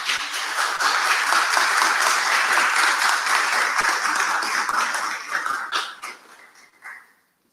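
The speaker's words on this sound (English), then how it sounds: "As they receive their award, a warm applause for them," Audience at a university student recognition awards ceremony gives warm applause to award recipients, dense steady clapping that thins out and fades to a few last claps near the end.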